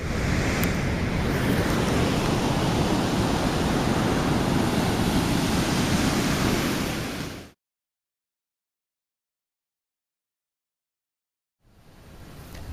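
Steady roar of ocean surf at Anini Beach on Kauai's North Shore, loud broadband wash with wind on the microphone, breaking off abruptly into silence before returning faintly at the end.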